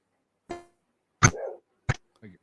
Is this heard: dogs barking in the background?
yes